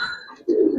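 Giribaz racing pigeons at a loft coo close up in a short throaty burst, a soft low rolling call that swells in the second half after a brief higher note.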